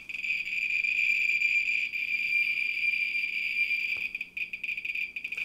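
A radiation counter crackles near an irradiated banana in a steady, rapid stream of close clicks that blur into a dense buzz, briefly thinning and stuttering toward the end, with no speech.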